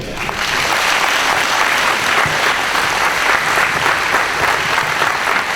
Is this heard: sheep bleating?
no